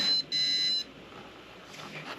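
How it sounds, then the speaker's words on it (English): A Pi1541 disk drive emulator hooked to a Commodore 64 gives two short high electronic beeps in quick succession, faint and thin, followed by quiet background noise. "Beeps."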